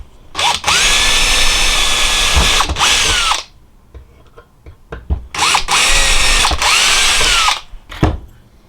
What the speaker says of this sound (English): Now we'll just finish drilling these holes.